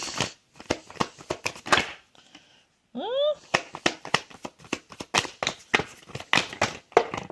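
Tarot cards shuffled by hand in quick bursts of papery riffling and flicking, close and fairly loud, mixed with someone talking throughout, with a brief pause and a short sliding vocal sound partway through.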